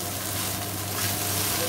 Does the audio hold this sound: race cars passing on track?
no